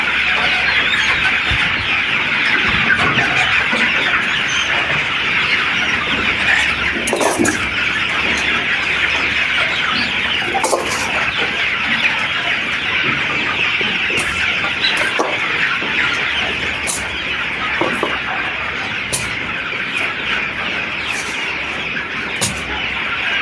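Chicks on a poultry farm fill the air with dense, continuous peeping and clucking from a large flock, close and loud, with occasional sharper calls and wing flutters.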